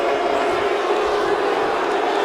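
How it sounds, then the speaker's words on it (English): A crowd in the WWE 2K24 wrestling game jeers a wrestler, giving a dense, even roar of many voices that holds steady and loud throughout. "This crowd showing their displeasure, showing their hatred, their despise of Solomon"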